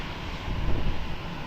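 A plane comes in to land at Lisbon Airport, a steady low engine rumble and broad hiss swelling slightly then easing over a brief stretch, with no voices.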